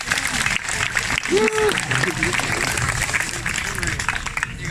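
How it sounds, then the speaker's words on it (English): An audience at an outdoor Icelandic festival in Gimli, Manitoba, claps in a sustained, loud patter, with voices and crowd murmur mixed in throughout. "Give everybody else a round of applause"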